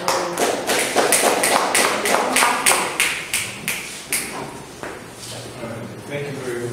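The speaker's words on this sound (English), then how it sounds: "let's give a round of applause to Mr. Mwangi" Small audience at a Kumasi tech community meetup on project management claps for an incoming speaker; sparse, evenly spaced claps, fairly close, that thin out and fade after a few seconds over a low room murmur.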